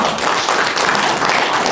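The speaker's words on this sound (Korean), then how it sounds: "큰 박수 부탁드립니다" Dense audience applause fills a conference hall at an IoT and software industry event, a steady, loud wash of many hands clapping throughout the short stretch with no pauses.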